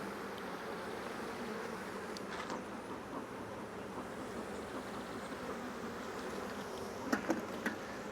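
Honey bees roar loudly around an open hive, a dense steady buzzing that fills the air throughout, with a few sharper knocks near the end.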